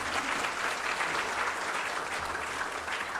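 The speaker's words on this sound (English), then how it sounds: "round of applause for Matt" An audience at an ethical and impact investing awards ceremony claps steadily for a judge, a dense, even wash of applause that holds at the same level throughout, with no talking over it.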